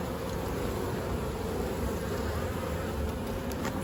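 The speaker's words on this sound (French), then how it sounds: "Là c'est des toutes jeunes abeilles qui viennent de naître." Honey bees swarm over an open hive frame holding eggs and newly emerged young bees during a queen coronation, giving a steady, dense close buzzing that carries on without a break and with no voices.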